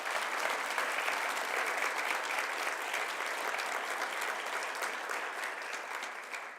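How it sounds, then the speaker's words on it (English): An audience at an MLK Day of Service opening ceremony applauds for young people doing community work, with dense, even clapping that holds steady and then begins to fade. "So give a round of applause to the young people out there doing the work."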